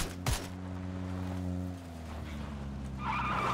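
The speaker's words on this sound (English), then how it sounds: "Car. They're driving." A car driving in a video game, with a low steady engine drone after a sharp thump at the start and a hissy skid-like rush at the end, no talk.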